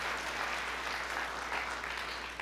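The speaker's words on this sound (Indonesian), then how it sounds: "Berikan tepuk tangan yang meriah" Church congregation applauding during an Indonesian sermon, a steady dense wash of many hands clapping at moderate distance, fairly faint and unbroken throughout.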